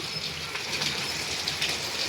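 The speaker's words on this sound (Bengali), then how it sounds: "তো বৃষ্টি হচ্ছে বাইরে" Steady rain patters outside, a continuous soft hiss with faint scattered drops and no voices.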